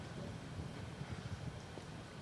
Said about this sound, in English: Hear the wind gusting in the background.